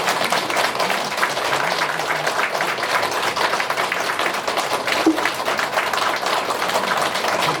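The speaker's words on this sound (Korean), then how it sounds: "박수 한번 쳐주세요." A crowd at a cooperative's briefing applauds steadily for several seconds, dense clapping at an even level with no voices standing out.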